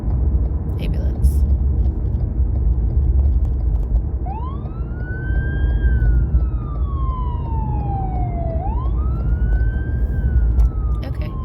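A wailing siren rises and falls in long sweeps as an emergency vehicle passes, over steady traffic rumble and a little background talk.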